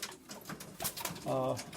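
Cock racing pigeons in a loft give a soft, close coo near the end, following faint rustles and shuffling, while someone talks quietly nearby.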